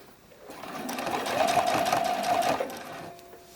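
A sewing machine stitches a bralette cradle in one short run, its motor whirring up, holding a fast steady hum for about two seconds and then winding down, heard close and alone.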